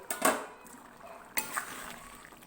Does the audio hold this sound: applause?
no